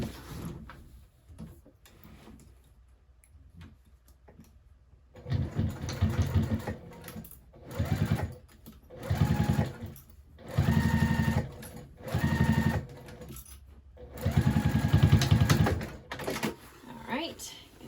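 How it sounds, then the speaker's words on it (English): A sewing machine stitching the pocket of a handmade bag, running in several loud bursts of rapid whirring separated by short pauses, after a quiet stretch with light handling sounds. "we'll go ahead and sew that"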